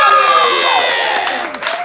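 A live crowd at an NCrowd comedy show applauds and cheers loudly, a dense wash of clapping with voices yelling over it, steady throughout before dipping slightly near the end.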